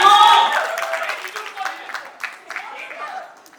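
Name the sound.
guests clapping loudly at a Roka ceremony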